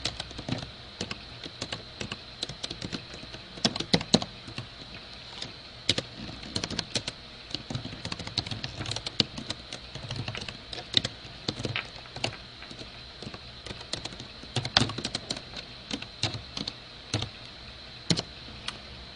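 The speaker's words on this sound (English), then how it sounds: "So here's where you type in your information." Fingers type steadily on a computer keyboard, a close, continuous patter of clicking keys lasting nearly twenty seconds, with no talk.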